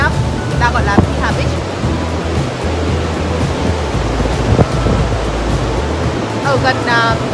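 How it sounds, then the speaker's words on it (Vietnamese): Surf rolling onto Piha, a black sand beach on the west coast of Auckland, gives a steady broadband wash throughout, with wind buffeting the microphone and someone talking over it. "Piha là một bãi biển cát đen tuyệt đẹp trên bờ biển phía tây của Auckland."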